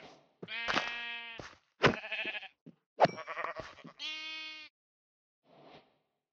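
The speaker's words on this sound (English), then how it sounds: "Sheep." Several video game sheep bleats in a row, clear and close, with short pauses between them and a fainter bleat at the end.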